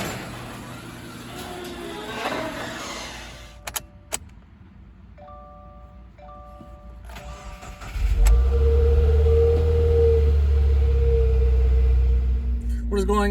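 A car heard from the inside as it starts and pulls away: quieter cabin sounds, clicks and a jangle of keys come first, then a loud, steady engine and road rumble that carries on to the end.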